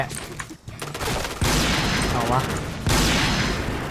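Rapid bursts of gunfire in the shooter game Point Blank, dense overlapping shots close and loud in two sustained volleys, with a voice speaking over them.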